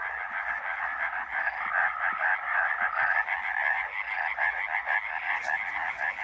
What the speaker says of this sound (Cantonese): 歐洲樹蛙只有一個聲浪俾佢發出聲音，但係佢嘅聲音可以傳到好遠